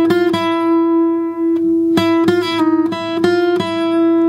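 Opening phrase of a gypsy jazz guitar lick, a handful of crisply picked notes with slides and pull-offs, spaced with short pauses over a sustained ringing tone, close and unaccompanied.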